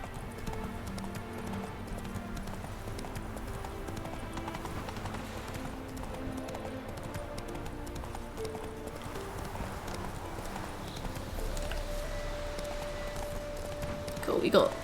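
Horse hooves clip-clop at a steady gallop in The Witcher 3, continuous and fairly close throughout, joined by a brief whinny near the end while someone speaks over the top.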